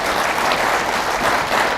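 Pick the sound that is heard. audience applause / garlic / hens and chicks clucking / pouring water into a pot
audience applause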